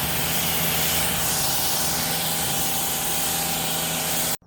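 Steady spray of water rinsing pH-balanced soap off a 2024 Mercedes-AMG GLE63s SUV during a wash, a close, continuous hiss that cuts off abruptly at the end.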